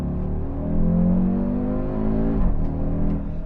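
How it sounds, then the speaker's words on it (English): Audi RSQ3 Sportback, a 400 hp SUV, revving under acceleration: a steady, loud engine and exhaust drone rising in pitch, then a brief drop and swell as it pulls again, partly artificial sound played through the cabin speakers. "a lot of that exhaust sound also is artificially played through the speakers"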